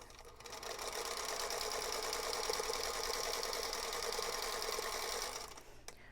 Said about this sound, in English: we're going to sew down here